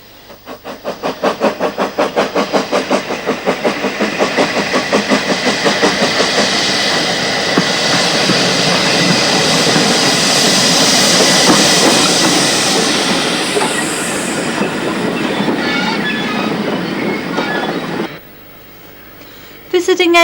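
A steam train on the Kent and East Sussex Railway running toward Bodiam, loud and close, its wheels and rods beating a fast rhythmic chuff and clatter that swells, holds steady, then cuts off abruptly near the end.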